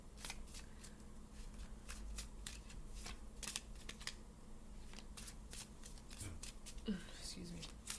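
Tarot cards being shuffled by hand, a steady run of soft riffling and flicking card sounds close up, with faint quiet speech underneath.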